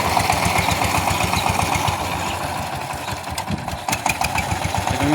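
A power tiller's engine runs in a village field, a loud, close, steady rapid chugging that holds throughout, with a few clanks near the end.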